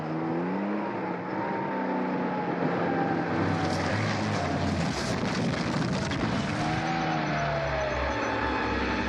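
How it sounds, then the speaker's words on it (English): A car approaches fast at night on a road, a loud continuous engine roar with rising and falling tones building in intensity, no voices over it. "Car, coming fast."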